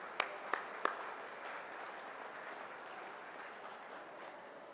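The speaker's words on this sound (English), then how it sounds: "so give yourselves a round of applause." Audience at an electric cooperative's annual meeting applauding a report, with a few sharp claps up front and then a steady, fairly soft wash of clapping that carries on evenly to the end.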